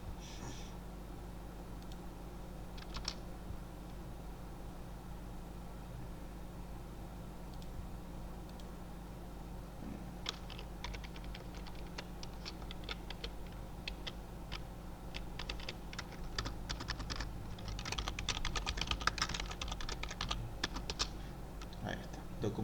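Quiet clicks of typing on a computer keyboard over a low steady hum, starting sparse and picking up into denser bursts of keystrokes toward the end.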